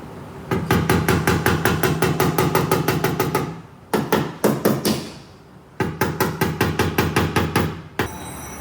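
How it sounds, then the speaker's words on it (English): Steady hammering on the damaged metal bedside of a 2024 GMC Duramax pickup, loud rapid ringing blows in three bursts separated by short pauses, close and alone. "Let's hammer it a little."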